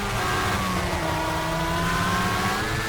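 Race car engine in the rFactor sim racing game revving steadily and loudly throughout, with rising harmonic whine as it climbs through the revs and short-shifted gear changes, no voices.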